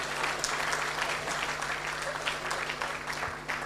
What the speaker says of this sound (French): M. Yomba, applaudissez pour lui s'il vous plaît.